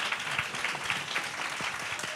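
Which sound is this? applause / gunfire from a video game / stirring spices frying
applause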